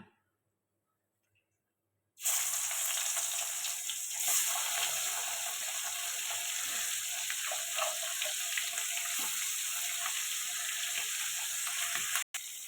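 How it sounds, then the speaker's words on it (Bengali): After about two seconds of silence, a loud, steady hiss of spice-coated fish frying in hot oil starts abruptly and continues evenly with faint crackles. "এবার মাছটা তেলে দিয়ে দেবো।"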